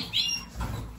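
Yakuzo canaries in an aviary give a quick bright chirp, then a short soft rustle of wings, all within a second.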